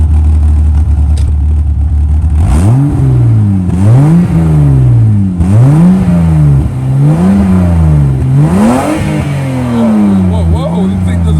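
A six-cylinder BMW 325i with a rusted stock exhaust revs repeatedly toward redline, each loud rising-and-falling blip separated by brief settling back to a rumbling idle, close and alone.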